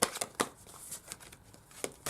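Tarot cards being shuffled by hand, with a series of crisp riffling snaps and soft papery rustles at an uneven rhythm, close and fairly quiet.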